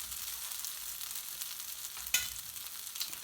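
Lamb lightly frying and charring in a pan for a Bengali-style lamb biryani, a steady soft hiss and sizzle with a single sharp clatter partway through, no voices.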